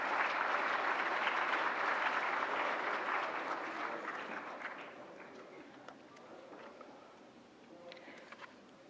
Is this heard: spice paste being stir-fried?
no